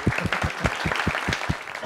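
An audience at an Indonesian heavy-logistics industry event applauds, a dense steady patter of many hands clapping together for about two seconds, with no talk over it.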